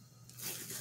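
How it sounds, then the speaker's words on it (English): Packing tape peeled off a cardboard box, a brief close tearing rip that builds in loudness and lasts under a second. "I forgot to slit it, so I got to take the tape off"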